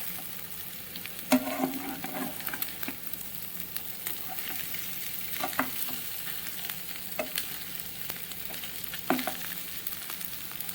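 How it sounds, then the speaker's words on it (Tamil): Ingredients stirred while dry-roasting in a pan, with steady scraping and light sizzling broken by occasional louder clinks of the utensil against the pan, close and alone without talk. "இப்போ கிண்டி பார்ப்போம்."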